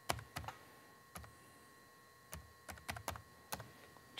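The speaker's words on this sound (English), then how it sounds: "simply by hitting the Enter key, typing, and hitting the Enter key" Keys on a computer keyboard are struck in scattered bursts of sharp clicks, a few quick strokes at a time with short pauses between them, close and fairly quiet against a faint steady hum.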